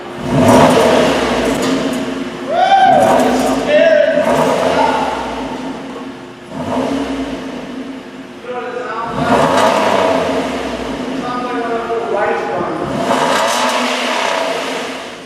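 A Ford Edge SUV engine with the exhaust resonator deleted revs up and down repeatedly with a raspy, droning exhaust note, loud and close, with brief talking mixed in.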